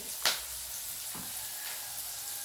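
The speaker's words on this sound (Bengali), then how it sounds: "যাতে তাড়াতাড়ি ভাজা হয় সেজন্য আমি সামান্য একটু লবণ দিয়ে দেবো পেঁয়াজে।" Onions fry with green chilli and a pinch of salt in a pan for masala chicken, a steady close hiss broken by one sharp clink of a utensil and a softer tap later.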